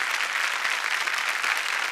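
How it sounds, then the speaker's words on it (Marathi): An audience at a Marathi TV show's stage event claps for two performers, a dense, steady, loud wash of applause with no pauses. "वा, दोघांसाठी टाळ्या झाल्या पाहिजेत."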